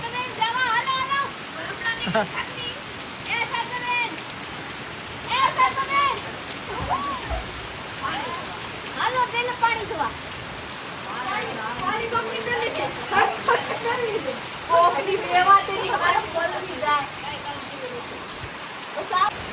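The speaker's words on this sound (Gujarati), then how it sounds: "પેલા કરતા વરસાદ વધી ગયો છે." Heavy rain pours steadily over a village after a full day of downpour, with water flooding the lanes; a continuous hiss of rainfall runs throughout while several people talk over it nearby.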